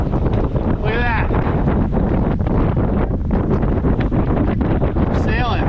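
A sailboat under sail heading to Catalina Harbor, with strong, constant wind buffeting the microphone and a rushing roar of air and water throughout, loud and close, with faint creaks and whistles in the rigging.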